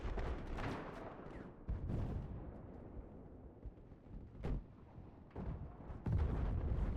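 Tank cannon shots boom in Battlefield 4 multiplayer, several heavy blasts spaced irregularly across a noisy battlefield, fairly loud with no talk.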